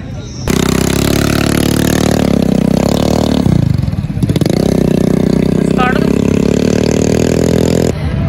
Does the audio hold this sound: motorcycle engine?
yes